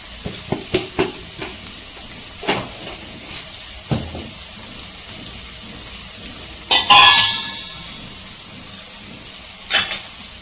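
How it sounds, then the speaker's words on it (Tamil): Tomatoes and karpuravalli leaves sautéing on high flame, with quick spoon taps and scrapes at the start, a louder clatter midway and another near the end, all over a soft sizzle and with no speech. "இப்போ ஹை ஃப்ளேமில் வச்சுட்டு கொஞ்ச நேரம் நல்லா இதை வந்து வதக்கி கொடுத்துக்கலாம்."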